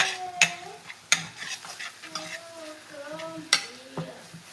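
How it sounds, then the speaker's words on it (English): Garlic is sautéed in a pan with a spoon stirring and scraping, giving a few sharp clinks against the cookware over a soft, steady sizzle heard close up with no talking. "Saute it up."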